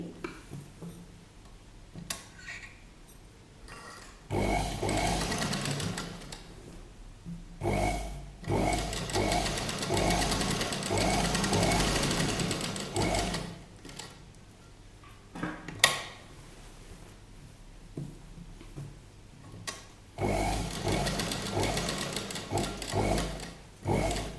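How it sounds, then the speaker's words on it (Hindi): A sewing machine stitches a collar neckline into fabric, running in long steady bursts of rapid mechanical whirring and ticking that start and stop several times, close and fairly loud, with no talk. "अब हम यहाँ पर सिलाई लगाएंगे।"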